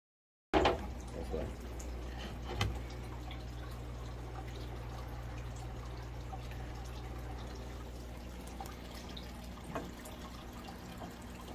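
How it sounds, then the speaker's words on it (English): An AQQA electric aquarium gravel cleaner sends a steady stream of water flowing and trickling out after a sharp knock, with a continuous near splash and faint drips on top. "Look at the water coming out"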